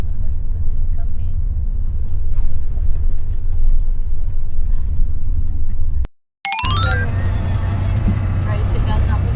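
A tricycle engine drones steadily from close by during a ride in Batad, Ifugao, with a low rumbling hum that cuts out briefly and then resumes, joined by a short burst of high chirping tones.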